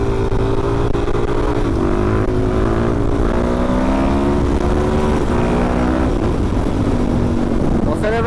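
A Suzuki DR-Z400 dirt bike revving hard in first gear while lifting into a wheelie, its engine note climbing steadily and loud and close throughout, with some wind rush.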